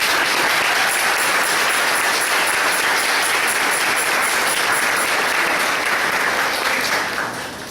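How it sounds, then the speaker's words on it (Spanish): A parish congregation applauds at Sunday mass celebrating seventeen years as a parish: loud, sustained clapping from a large crowd, dense and steady for about seven seconds before tapering off at the end. "Un aplauso para ustedes."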